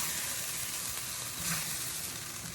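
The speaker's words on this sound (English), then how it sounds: "you're just going to saute this until the sauce thickens up all the way and the green onions have cooked a little bit" Ground beef sautés in a thickening sauce with green onions, a steady, even sizzle and soft bubbling heard close and continuous, with no talking.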